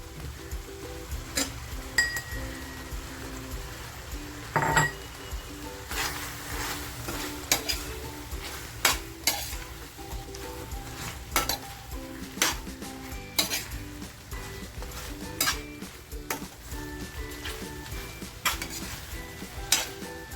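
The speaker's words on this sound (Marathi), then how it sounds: "आता जो आपण ह्याच्यासाठी तयार केलेला मसाला आहे तो मसाला टाकते आणि हा सगळा मसाला टाकायचा आहे" Masala being stirred into mutton pepper fry sizzling in a pan, with repeated scraping and clinking of a spoon against the metal pot, steady close frying hiss throughout, no talking.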